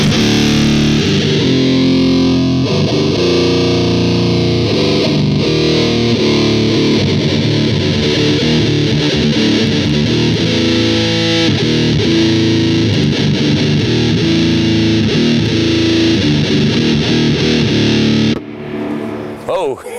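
Loud distorted electric guitar with heavy reverb through a backline amp plays a steady metal riff for about eighteen seconds, then cuts off abruptly into a brief quiet stretch.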